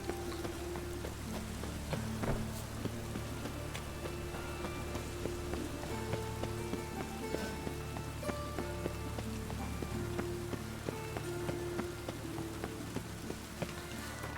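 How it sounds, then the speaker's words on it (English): Steady rain falling in The Witcher 3: Wild Hunt, a continuous patter of drops on surfaces with faint scattered clicks and a low background hum, no talk. "it's always raining"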